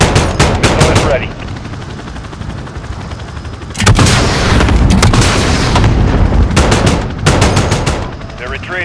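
Rapid bursts of automatic gunfire with heavy booms from an aircraft attacking enemy fighters in Call of Duty: Modern Warfare (2019), loud and close, coming in several long volleys separated by brief pauses.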